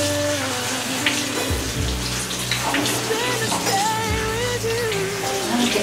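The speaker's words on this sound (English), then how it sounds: "I mean wash and dry bowl." Tap water running steadily into a kitchen sink while a bowl is washed, a continuous close splashing rush with occasional clinks and shifts in flow.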